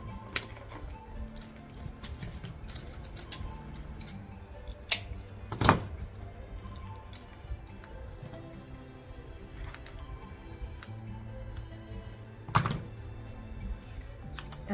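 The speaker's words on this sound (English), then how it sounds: "So I'm going to cut a bit off there. And a little bit out of here." Sharp, irregular clicks and snips of mosaic pieces being cut to shape for a mosaic lollipop, close and dry over a quiet room, with a couple of louder snaps.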